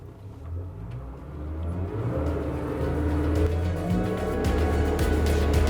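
A HammerCat 35 motorboat accelerates on one engine, revving up and building steadily into a loud, rising roar, with a deep low rumble throughout and no voices.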